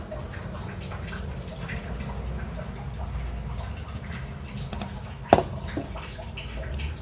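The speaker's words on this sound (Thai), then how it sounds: "ต้มน้ำให้ทอดร้อนแล้วเนี่ย" Water boils in a pot being readied for a curry, giving a steady low bubbling and churning rumble throughout, with one sharp knock just past the midpoint.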